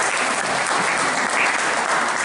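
Conference audience at a talk on wool waste bursts into steady applause, a dense, even wash of many hands clapping close and loud for a couple of seconds with no voices.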